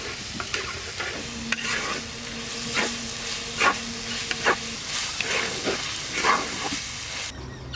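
Whole spices such as cinnamon, cloves and black pepper frying in a pan, a constant sizzle broken by repeated scraping stirs of a spatula, close and fairly loud, with no talking.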